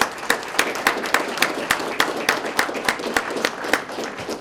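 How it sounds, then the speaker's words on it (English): Steady applause from a crowd at a police swearing-in ceremony, many hands clapping continuously at moderate volume, no voices standing out. "give all of you family members a round of applause"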